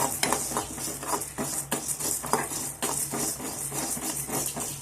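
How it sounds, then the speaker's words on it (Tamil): Chana dal, urad dal and cumin dry-roasting in a pan for a chutney, heard as repeated close scraping and rattling from a metal spoon against the pan, with light grains shifting under it and no speech. "சீரகம் சேர்த்து இதோடய வறுத்தெடுத்துக்கலாம்"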